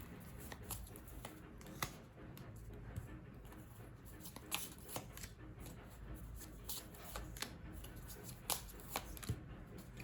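Tarot cards being shuffled by hand during a pick-a-card reading, with a run of close, soft riffling and flicking bursts, some sharper snaps, all fairly quiet and repeated throughout.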